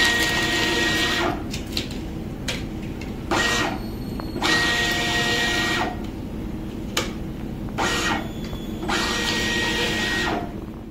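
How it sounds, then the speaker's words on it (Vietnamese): A RING 4012PLM+ barcode label printer in auto-peel mode runs in repeated bursts of mechanical whirring and feeding, each lasting a second or two, separated by brief pauses as labels are peeled off; close and fairly loud with no talking. "Sau khi lột nhãn thì máy mới lên tiếp."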